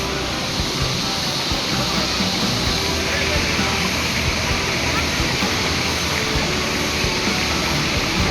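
Water rushes and churns in the Sungan River around a swimmer, a loud, steady broadband roar with no pauses, heard up close throughout.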